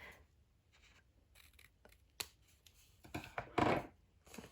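Scissors cut out a 6x6 paper gift box, quiet close snips and crisp paper crinkles in short irregular bursts, louder toward the end, with no talking.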